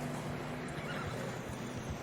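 A horse in a video game neighs over a low, steady rumble that runs through the whole moment without pause.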